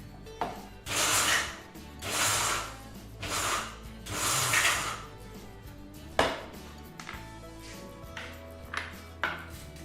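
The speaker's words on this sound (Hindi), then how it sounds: "तो थोड़ी देर रखूंगा, उसके बाद पाउडर ग्राइंड कर लेंगे।" An electric grinder whirs in several bursts as pistachios are ground into powder, each burst loud and about a second long, followed by quieter knocks and rattles of the jar and lid.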